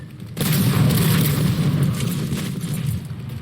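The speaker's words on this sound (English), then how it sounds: "that was a concussion rifle" A concussion rifle blast in the Halo video game, a loud booming burst that swells suddenly and then holds as a dense, rumbling roar for a few seconds, with no talk over it.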